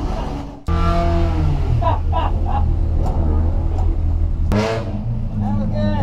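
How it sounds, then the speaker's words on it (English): A race car engine screams at full throttle against the rev limiter during a track battle with a VW GTI, loud and close in-car with a sustained droning pitch that drops briefly at a shift before climbing again, while a voice talks over it. "I bury the throttle. Man, I got a good run. Stand on the rev limiter past the straight."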